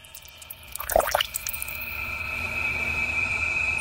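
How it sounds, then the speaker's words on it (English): Generated water-dripping effect: a couple of splashy drops land close together near the start, then a steady, faintly hissing ambient background fills the rest. "here's another one where we have something dropping in, I'm guessing liquid water maybe"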